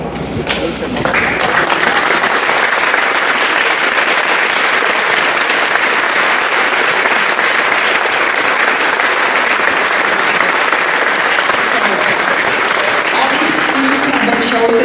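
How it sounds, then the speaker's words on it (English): Loud, sustained applause fills a middle school awards ceremony for the students of the month, a dense continuous roar of many hands clapping close by, lasting the full length with scattered voices inside the crowd. "so we can give you a round of applause"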